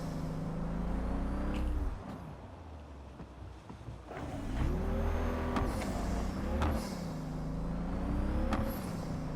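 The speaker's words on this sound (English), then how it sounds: "Hybrid it sounds like. Or it could just be supercharger noises." A supercharged car engine in the video game Cyberpunk drones steadily with whining tones that rise and fall as it revs, loud throughout with a brief dip around the middle.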